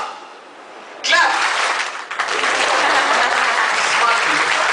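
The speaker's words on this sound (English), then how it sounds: "So will you clap when I say clap? Clap, clap, clap, and don't stop." A lecture audience claps on command, a dense, steady wash of many hands that bursts in abruptly after a second of near-silence and holds loud and unbroken to the end.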